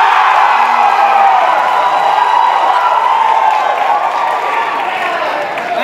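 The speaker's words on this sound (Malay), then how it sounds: "tepukan gemuruh" Thunderous, sustained applause and cheering fill a hall at a university leadership colloquium opening, a dense roar of clapping from a large crowd with scattered whoops, loud and continuous before easing slightly near the end.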